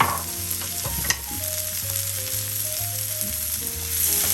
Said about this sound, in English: Gonna give it a quick saute